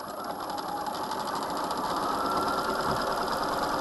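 A sewing machine runs steadily through fabric while a drawstring bag is stitched, a continuous close mechanical whir with fine rapid needle ticking and no pauses, no voices.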